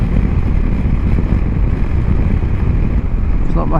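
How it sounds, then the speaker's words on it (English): Strong wind on high ground near Shrewton, by a BMW R1250GS motorcycle, buffets the microphone in a constant, heavy roar that never lets up. "it's a little bit more windy up here."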